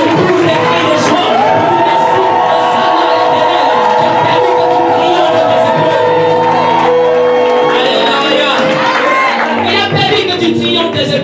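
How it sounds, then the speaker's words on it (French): A worshipping congregation at a thanksgiving church service shouts and whoops for joy in a loud, dense, continuous roar of voices, with some music underneath throughout. "Il est important que tu pousses les cris de joie."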